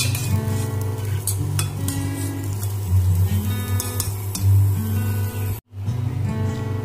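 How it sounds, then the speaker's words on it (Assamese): Rice slowly stirred and fried in a pan, a continuous close sizzle with scraping and occasional clinks of the spoon against the metal, ending in a brief dropout, no talk. "এতিয়া মই লাহে লাহে ভাল ধৰণেৰে গোটেই চাউলখিনি এনেধৰণেৰে লৰাই দিছোঁ"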